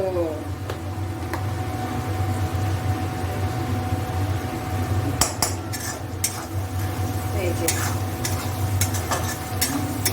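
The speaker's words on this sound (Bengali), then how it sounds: "ফ্লেমটা বাড়িয়ে দিলাম এইবার একটু ভাজা ভাজা করে নেব" Steady frying sizzle over a raised flame with frequent scraping and clinks of a utensil stirring salted food in a pan, continuous throughout at moderate level.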